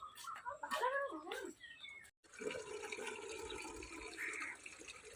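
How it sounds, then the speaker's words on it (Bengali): Filtered water running steadily into a bottle, a continuous close pouring hiss that starts after a brief pause, heard just after a high-pitched voice speaks at the start. "ভরে নাও জল"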